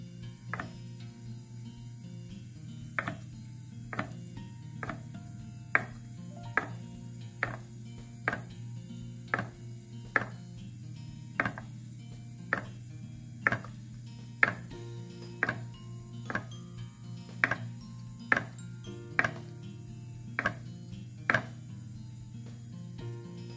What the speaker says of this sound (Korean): 김치를 썰어 보겠습니다